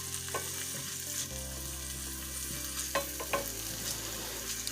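Onions sautéing in a pan for vegan potato croquettes, a steady close sizzle with occasional stirring scrapes and a constant low background hum.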